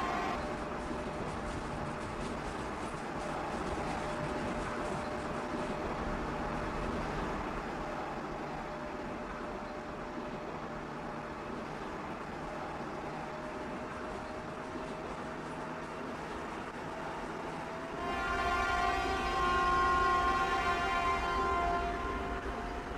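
A steady, low rumbling hum of a rolling train as heard from a passenger car in a smartphone train simulator game, with a whining mechanical tone that swells louder near the end.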